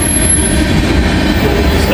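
A CSX or NS freight train rolls through a diverging move at close range, a loud continuous rumble of wheels with a thin high squeal over it throughout.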